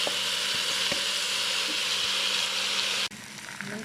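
Soaked, washed Egyptian rice tipped onto vermicelli frying in oil in a pot, hissing in a loud, steady sizzle that drops abruptly near the end as the grains settle.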